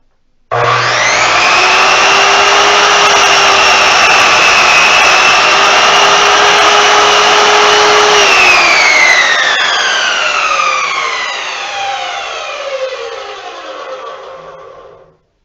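A Chicago Electric 10-inch sliding compound miter saw runs up loudly and steadily, bogging and whining through a board for several seconds before its motor spins down in a falling tone.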